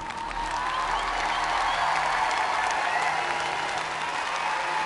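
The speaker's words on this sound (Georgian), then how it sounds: "უბრალოდ ტაში დავუკრათ და შემდეგი" A studio audience at an X Factor talent show applauds, steady, dense clapping from a large crowd that holds at an even level throughout, with a faint cheer mixed in.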